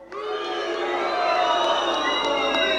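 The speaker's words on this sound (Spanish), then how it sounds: "Fuerte el aplauso para Mike Stallone." A wrestling crowd cheers and applauds loudly, a dense, sustained wall of shouts and whoops that keeps building through the moment.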